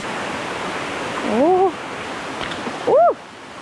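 Steady rushing roar of a waterfall on Koh Samui, Thailand, fills the scene, with two brief tonal vocal sounds rising over the water.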